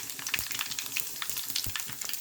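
Dried red chillies crackle in three spoons of hot oil in a kadai for a tempering, a soft, steady sizzle with quick fizzing pops, fairly quiet and with no voices.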